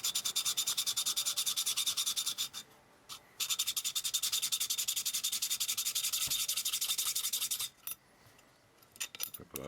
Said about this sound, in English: we're going to take this key and just go backwards and forwards on either side and thin it out very carefully and very evenly